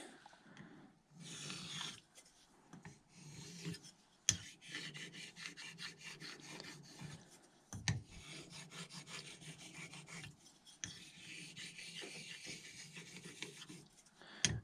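A blade is honed with continuous scraping and rubbing strokes, quiet and close, with occasional sharper clicks between passes and no talking.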